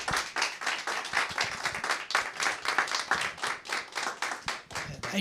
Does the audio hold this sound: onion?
no